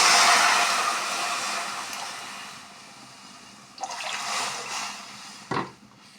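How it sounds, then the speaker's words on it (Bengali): Water poured into a pan of fried peas, a loud rushing hiss that fades gradually, then a second gush and a brief splash before it settles. "এখন তাতে দিয়ে দেব জল এই যে দিয়ে দিচ্ছি জল"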